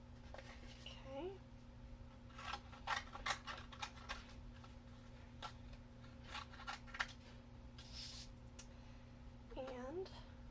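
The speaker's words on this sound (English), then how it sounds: "just ever so gently cut as smoothly as I can around the shoe" Scissors snip gently around a small handmade Barbie doll shoe, a run of quiet, close clicking cuts with pauses between them, while someone talks softly now and then.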